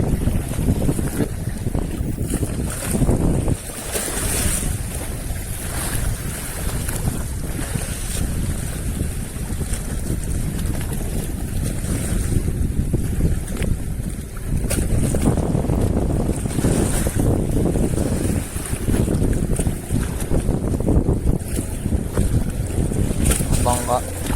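Rough waves wash along the shore as the boat Leon approaches to dock, with steady rushing water, wind buffeting the microphone and occasional nearby voices.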